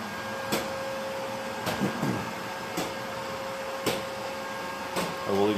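A Neato D85 robot vacuum runs steadily across tile and onto carpet, its motor a constant whir broken by several sharp knocks and bumps as it travels.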